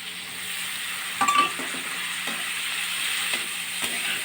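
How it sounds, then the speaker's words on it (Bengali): Cabbage and potatoes stir-fried with spices in a pan, with a steady low sizzle broken by several clattering scrapes and knocks of a stirring spoon, close and unaccompanied. "এবারে বাঁধাকপি আলু দিয়ে ভালো করে কষাতে থাকবো"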